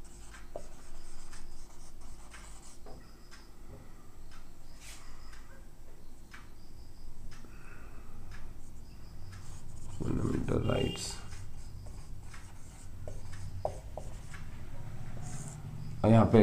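Marker or chalk scratching and tapping on a board in a lecture hall, a long run of faint strokes and ticks with a louder burst of rubbing partway through, all under a teacher's speech.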